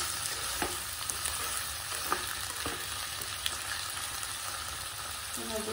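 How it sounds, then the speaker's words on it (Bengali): Onion, capsicum, ginger, garlic and green chili frying lightly in a pan for spicy chilli chicken, a steady close sizzle with occasional soft clicks of stirring, no talking. "এখন পেঁয়াজ, ক্যাপসিকাম, আদা, রসুন, কাঁচা লঙ্কা সব হালকা করে একটু ফ্রাই করে নিই।"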